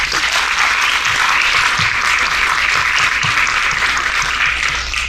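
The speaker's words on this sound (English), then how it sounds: "Please give our guests a warm welcome and a round of applause." A room full of people claps loudly and steadily to welcome guests onto a film-industry panel, a dense unbroken roar of applause from start to finish.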